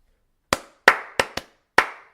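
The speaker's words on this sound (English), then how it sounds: "So they would clap 5 times and we would clap the last 2 times." Five sharp, close hand claps in an uneven rhythm, used as an attention-getting pattern in a teacher training class, each crisp and isolated against silence with no talking.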